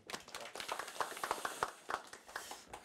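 Audience at a Korean research policy forum clapping to welcome a speaker, quiet and fairly sparse, with individual claps spaced irregularly over a few seconds.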